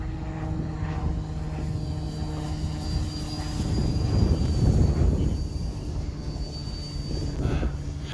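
A small full-scale propeller airplane drones overhead, its engine hum swelling and fading against steady outdoor background noise, with no talking.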